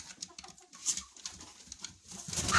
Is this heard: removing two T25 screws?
no